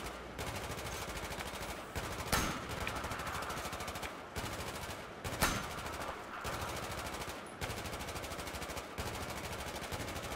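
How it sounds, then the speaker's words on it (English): Sustained automatic gunfire in the first campaign mission of the video game Battlefield 4, with rapid continuous bursts and a couple of louder nearby shots punctuating the steady barrage. "Who is doing all of this shooting?"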